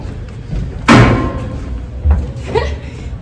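Inside a school building near a stage balcony, a door closes with a sharp slam and then a softer thud, heard close by among footsteps and room noise, while someone speaks.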